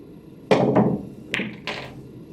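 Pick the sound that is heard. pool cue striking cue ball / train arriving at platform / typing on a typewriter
pool cue striking cue ball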